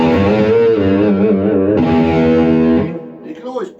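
Gordon Smith SG2 electric guitar from 2001 played through distortion, a loud sustained gritty chord ringing for nearly three seconds before cutting off into a few quieter picked notes.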